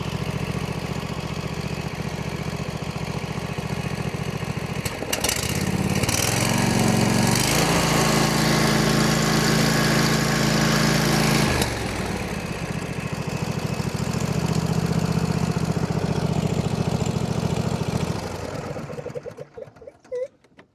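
A Kawasaki Mule utility vehicle engine idles steadily after a tune-up, briefly revving louder mid-run before settling back and cutting off near the end.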